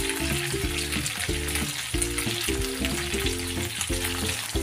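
Chicken wings frying in a pan with sauce over low heat give a steady, close crackling sizzle that runs throughout, beneath rhythmic background music.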